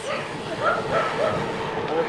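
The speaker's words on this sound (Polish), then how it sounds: "Na dziewiątym kilometrze grasuje szajka mini piesków." A pack of small dogs along a road yips and barks in quick overlapping bursts, fairly close, while people talk over them.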